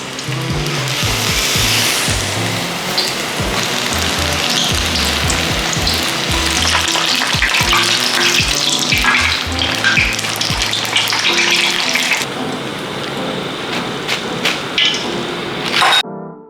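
Battered seaweed mushrooms frying in hot oil give a loud, continuous crackling sizzle, broken by frequent light clicks and taps of a utensil, with no voices.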